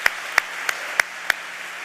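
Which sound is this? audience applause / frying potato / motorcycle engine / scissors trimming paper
audience applause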